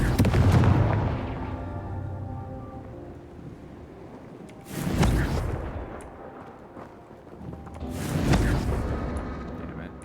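Confringo blasting-curse explosions in Hogwarts Legacy: three booming blasts, a heavy one at the start and two more spaced several seconds apart, each followed by a rumbling decay.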